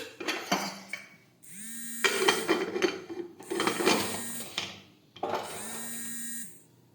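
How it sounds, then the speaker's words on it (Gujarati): A pressure cooker lid is fitted and shut in three bursts of grinding, squealing metal-on-metal scraping, separated by short pauses, close up and fairly loud with no talking. "હવે આપણે કુકરનું ઢાંકણ છે તે બંધ કરી દઈશું"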